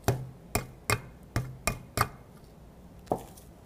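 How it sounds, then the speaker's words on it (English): Sharp metallic knocks from a hammer clawing at a 3D printer roller bearing, six evenly spaced close hits followed by a pause and one last strike. "you basically just take your hammer and just kind of claw it away here"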